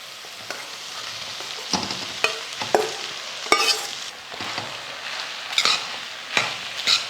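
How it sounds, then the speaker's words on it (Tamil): Cooked rice being stirred and mixed into fried onions and tomatoes in a frying pan, with an even sizzle under a series of sharp spoon scrapes and clanks at irregular intervals, close up with no voices. "சாதம் போட்டு கலந்துக்கலாம்."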